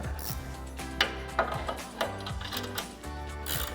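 A 13mm ratcheting wrench tightens the light mounting bolts on a front bumper being installed on a 2018-2020 Ford F-150. It gives a steady run of close, rapid clicks, punctuated by a few sharper metallic knocks, with no talking.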